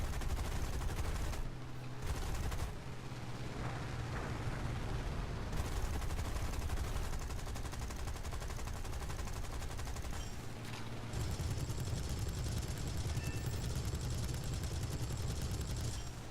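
Aircraft machine guns in the War Thunder video game, rattling off in dense sustained bursts under a constant engine drone, with brief gaps between volleys and no talk.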